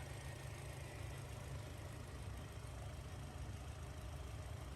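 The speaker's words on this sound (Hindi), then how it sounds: "BMW B48 इंजन है ये।" A Mini Cooper JCW's BMW B48 engine idles steadily, a constant low rumble with a broad hiss over it, unchanging and fairly close, with no talking.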